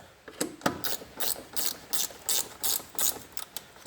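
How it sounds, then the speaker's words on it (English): A bolt on a Vivaro van's bonnet catch is wound up with a ratchet, giving a steady series of close, loud ratcheting clicks in even strokes with no talk. "Do the bolt all the way up,"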